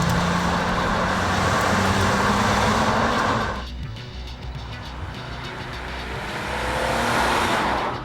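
Astra Turbo car driving on the road, a steady engine and tyre roar that dips briefly midway, then swells again as the car passes close, with no talk.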